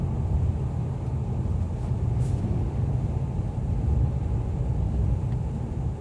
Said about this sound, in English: It sounds like I'm driving a big truck with the engine roar.